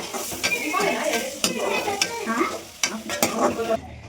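Egg added to a hot pan for an avarekalu egg palya and stirred while it fries, with loud close sizzling and quick clattering scrapes of a utensil against the pan.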